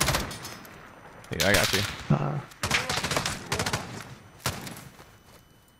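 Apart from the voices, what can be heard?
LMG gunfire in video game Warzone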